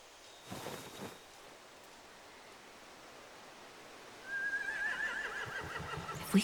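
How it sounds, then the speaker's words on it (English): Horses whinny in The Walking Dead video game, a short neigh early on, then a louder drawn-out whinny near the end over a faint rustling, low background. "They have horses."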